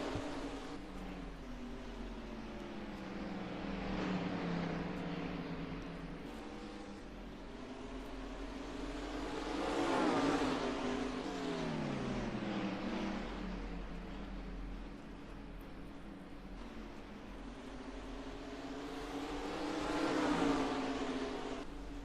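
Stock cars lap the Delaware track in a racing video game, a steady layered engine drone rising and falling in pitch as cars pass, swelling louder around the middle and end with no voices.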